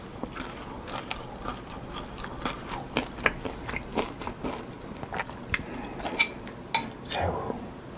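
Someone eats fried king prawn and sushi close to the microphone, with steady crunchy bites and chewing, light clinks of dishes and utensils, and a voice occasionally in the background.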